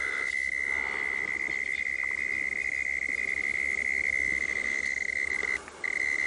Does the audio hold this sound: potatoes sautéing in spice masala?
no